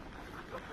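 Strong wind blowing steadily outdoors where ornamental chickens are kept, a dense rushing roar with faint gusty swells and some microphone buffeting.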